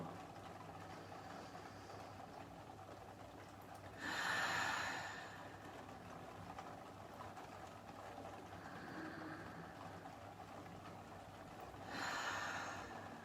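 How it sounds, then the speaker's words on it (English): Slow, deep meditative breathing during a relaxing cleansing routine: two broad breath bursts about eight seconds apart, soft and close, with quiet room tone between them and no talking. "3 deep breaths in. And exhale out. 2 more."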